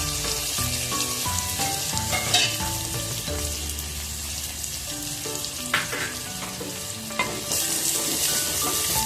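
Sliced onions fry in a hot pan and are stirred and scraped with a wooden stick, giving a steady close sizzle broken by repeated clattering stirs, with no talking.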